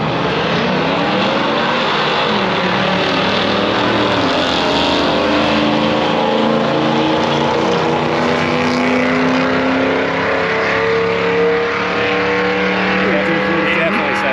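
A white Fox Body car makes a drag racing test pass at National Trail, its engine roaring loudly with rising and shifting pitch sweeps across the whole stretch, heard from near the track.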